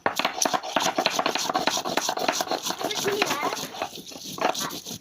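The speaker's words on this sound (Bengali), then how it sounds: "আমি আরেকবার বেটে নিব লঙ্কাটা" Green chillies being ground on a grinding stone, a steady rough rubbing and rasping with repeated strokes, close and fairly loud, with voices talking over it.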